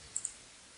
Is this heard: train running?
no